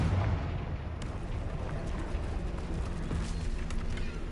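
A Confringo blasting spell detonates in the Hogwarts Legacy video game, giving a loud, dense booming blast with a rumbling, crackling tail that fills the whole few seconds and has no talk.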